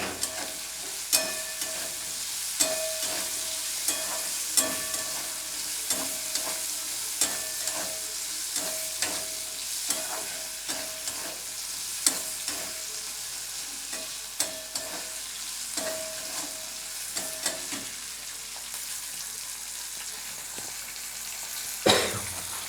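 Small green peas fry and sizzle in a pan while a spoon stirs them, with steady close sizzling and frequent sharp scraping knocks repeating throughout, no voices.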